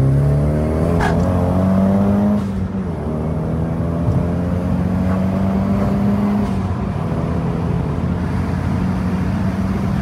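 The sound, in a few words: Nissan S15 SR20 turbo engine revving, turbo surge, dump valve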